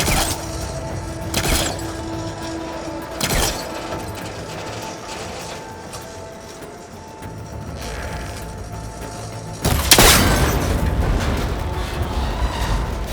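Shooting a cable connector on an ancient, rickety tower in Horizon Forbidden West: sharp impacts near 1.5 and 3.4 seconds, then a loud crack and break with debris near 10 seconds, over steady mechanical game ambience.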